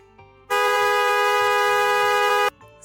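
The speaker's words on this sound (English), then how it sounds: "C for car." A car horn gives one loud, steady honk lasting about two seconds, with faint soft sounds just before and after.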